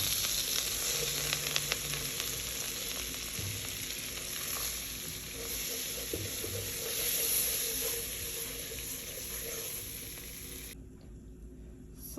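Butter and flour roux cooking for a cheese sauce in a home kitchen, a soft, steady sizzle and faint bubbling that continues quietly before dropping away near the end.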